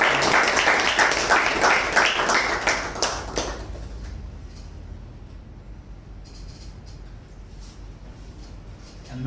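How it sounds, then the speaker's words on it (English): Applause from the audience at a Toastmasters meeting, a loud burst of clapping in the opening seconds that quickly fades, leaving a quiet room. "that deserves a huge round of applause"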